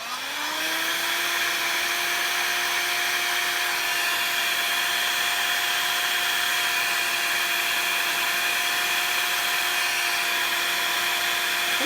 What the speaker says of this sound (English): Now we're gonna blow dry these bad boys.